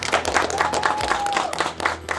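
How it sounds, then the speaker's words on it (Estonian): Audience applause for the remaining contestant at the Estonian electronics young-master competition, a steady burst of clapping lasting a couple of seconds at moderate level, with a faint tone and some background murmur. "teeme ka aplausi meie ülejäänud võistletajale"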